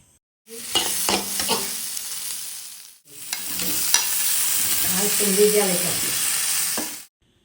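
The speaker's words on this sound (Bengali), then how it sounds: "মাশরুম দেওয়ার পরে আমি ভালো করে লাইরা লাইতেছি" Mushrooms with bean seeds, potatoes and spices frying in a pan: a loud, continuous sizzle with repeated stirring scrapes in two bursts split by a brief pause, and no talking.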